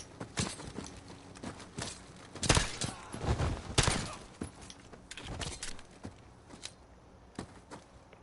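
Gunfire crackles through a Call of Duty Modern Warfare campaign battle as scattered sharp shots and short bursts over steady background noise, fairly quiet overall.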